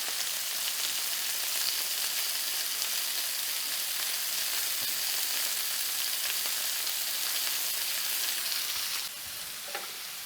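Shrimp sear in a hot pan of butter and olive oil with a steady, loud, hissing sizzle that carries on evenly and then drops abruptly softer near the end, with no talking.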